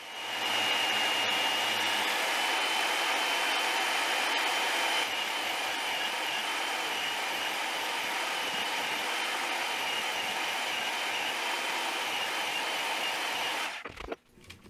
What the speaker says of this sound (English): I'm only cutting slots in the portions between the T-branches.